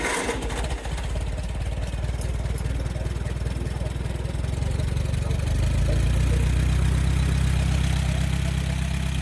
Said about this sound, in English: Now you can tell it runs like a top once you can choke it with one hand and start it.